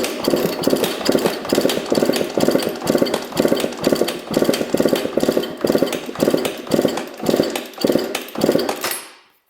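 A freshly rebuilt dirt bike engine is cranked over with the throttle open for a compression test, a rhythmic chugging pulse repeating evenly at close range for several seconds before abruptly stopping.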